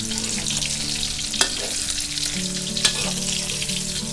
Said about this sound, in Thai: ช่วงนี้เราก็ทอดไปเรื่อยๆเลยนะคะ